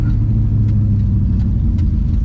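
A Plymouth Barracuda's engine rumbles low and steady while the car drives around town, a loud, close, continuous drone with no talk.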